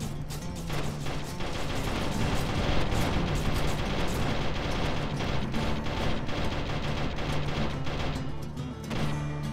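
Dense, rapid gunfire and heavy booms rumble continuously from an enemy vehicle's front-mounted shotgun during a Terra Tech battle, loud and close, with overlapping blasts filling the whole stretch.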